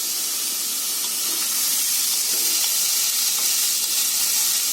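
Onion fries with whole spices, producing a steady hissing sizzle that stays close and even, with faint occasional crackles.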